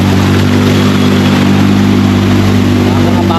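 A single-cylinder clutch motorcycle engine runs loud and close, a steady, unchanging idle with a strong low hum, with people talking over it.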